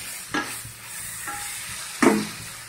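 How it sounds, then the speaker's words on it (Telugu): Salted mutton fries in a pan, a quiet steady sizzle marked by a few sharp stirring clinks and scrapes of the spoon against the pan, close up, with no talking. "ఇప్పుడు కొంచెం వేగలుద్దాం."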